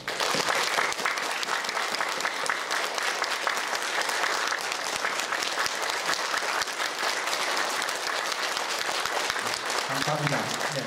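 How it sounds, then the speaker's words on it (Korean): Sustained applause from a large audience honoring teachers at a military-style commissioning ceremony for cadets, steady dense clapping throughout with crowd noise. "은사님들에게 감사의 박수를 부탁드립니다"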